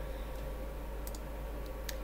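Taps on a phone touchscreen keyboard while entering a word in an app, a few faint clicks over a steady low hum, with no talking.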